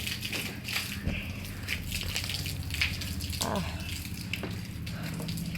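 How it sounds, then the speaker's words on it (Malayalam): Water from a bore well splashes and pours steadily and continuously at moderate volume in a garden, with a low background hum and no talking. "കാറിനും ഈ വെള്ളം വീഴുവേ ഇവിടെ ബോർ വെള്ളമാണല്ലോ"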